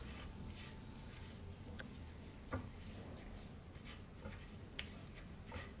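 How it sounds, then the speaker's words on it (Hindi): Sugar fries in a pan for a banana dessert with a faint, steady sizzle, broken by a few soft clicks and scrapes of stirring. "थोड़ी सी देर के लिए हम शुगर को फ्राई करेंगे, इतना कि हल्का सा गोल्डन और ब्राउन कलर आ जाए इसका।"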